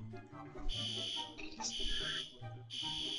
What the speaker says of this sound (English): you're gonna hear the fucking fire alarm